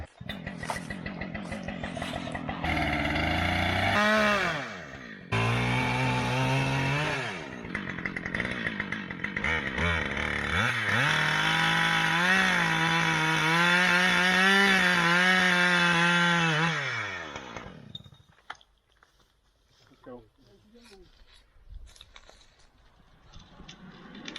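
A two-stroke chainsaw roars loudly near by, its engine pitch rising and dipping as it bites into a tree, then cuts out, leaving faint rustling.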